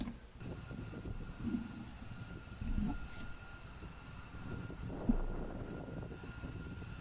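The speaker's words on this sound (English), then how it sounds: "let me just play this video of the B-2s arriving in Guam" Multiple B-2 bombers arriving at Guam, a steady low rumble of distant jet engines with faint whining tones above, a few brief thumps and swells, no talking.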